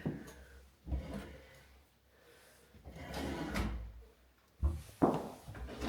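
A soft-close drawer in a kitchen bank of drawers is pushed shut several times, each close a muffled wooden slide ending in a gentle cushioned thud, the last two strokes close together and loudest.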